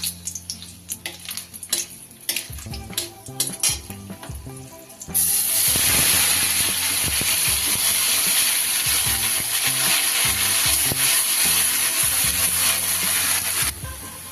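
Onion paste from medium onions drops into hot oil for chicken rezala and bursts into a loud, continuous sizzle that fills the pan, following a stretch of clinking spoon and stirring sounds.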